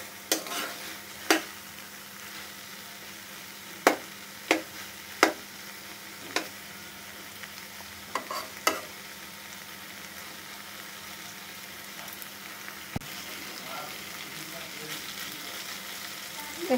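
Ginger, garlic and cumin spice paste fries in oil for a rohu fish curry, giving a steady close sizzle broken by a few sharp clicks and scrapes of a spoon against the pan, with no talking.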